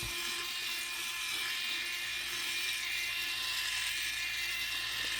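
Electric mixer whirring steadily as it stirs epoxy resin for coasters, a continuous high-pitched motor whine held at close range with no pauses and no voices.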